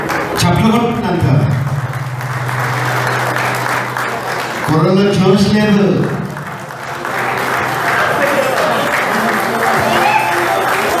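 Audience applause at a Man of the Match award presentation during a Konaseema anniversary celebration: a steady wash of clapping runs through the clip beneath someone speaking over a microphone.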